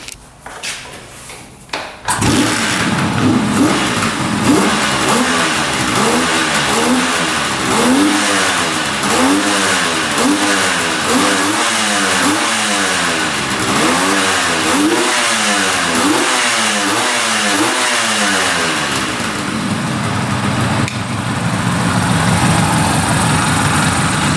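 A rare two-stroke triple motorcycle engine starts after a short cranking burst and then revs hard and repeatedly, wavering up and down in loud, raspy surges before settling toward a rough idle, close and loud with no talk.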